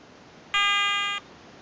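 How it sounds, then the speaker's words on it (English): Garrett ATX metal detector gives a bright electronic beep tone lasting about two-thirds of a second, loud against a quiet background at the end of its frequency scan. "Okay, 3 beeps, and she's found a nice quiet frequency."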